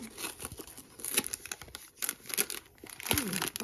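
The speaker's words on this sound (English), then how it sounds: "Open it with some scissors, looks like." A Pillsbury banana quick bread package being cut open with scissors, giving a string of close crinkling and snipping sounds with plastic rustle, quiet and alone with no talk.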